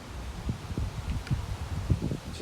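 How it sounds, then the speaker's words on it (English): Gusty wind outdoors in New England, gusts past 35 mph from the west-southwest, heard as low rumbling buffets and bursts of microphone wind noise with faint rustling, steady and close throughout. "it's really windy"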